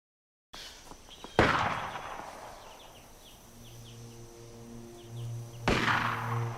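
Two loud, sharp gunshots in an episode of the TV series From, about four seconds apart, each with a ringing tail over quiet night ambience with insect-like chirps.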